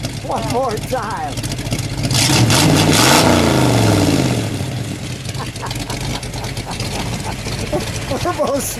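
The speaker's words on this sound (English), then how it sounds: "give it a rev. Let's see what that off-road exhaust sounds like." A 1959 Chevrolet Corvette convertible with a four-speed and an off-road exhaust revs up from idle, the engine note swelling loudly for a couple of seconds before falling back to a rumbling idle, with people talking nearby throughout.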